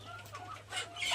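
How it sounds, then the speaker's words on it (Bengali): Hens in a shed holding about 150 chickens cluck softly and continuously, a low busy murmur of fowl with occasional brighter calls rising near the end. "আমাদের এই শেডে প্রায় 150+ মুরগি আছে।"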